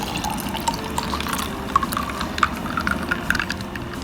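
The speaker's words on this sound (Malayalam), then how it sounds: "ഇനി നമുക്ക് ഒരു 4 ഐസ് ക്യൂബ് ഇട്ടൊരു ഗ്ലാസ്സിലേക്ക് ഒഴിച്ചു കൊടുക്കാം." Orange lemonade pours into a glass over ice cubes, a steady liquid stream with small clinks and drips standing out near and fairly quiet, no voices.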